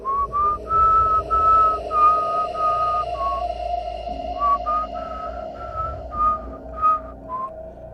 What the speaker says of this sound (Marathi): माझ्या कानाजवळ तो शिट्टीचा आवाज ऐकू आला